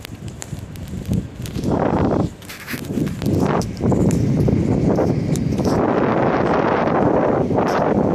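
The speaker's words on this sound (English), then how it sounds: "the wind's picking up" Strong wind gusts buffet the microphone while parasailing, a loud rushing roar that rises and falls in surges and becomes continuous in the second half.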